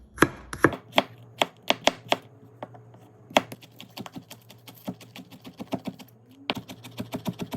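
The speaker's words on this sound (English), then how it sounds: "And then we want to go ahead and dice everything up just nice and finely." A knife finely dices lemongrass on a cutting board, giving a fast, steady run of crisp, sharp taps, close and loud, with no talking.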